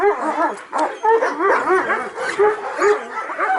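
Kangal dogs at the Altın Kangal dog farm, Turkey's largest, bark and yip in quick overlapping bursts, several animals close by, loud and continuous with whining in between.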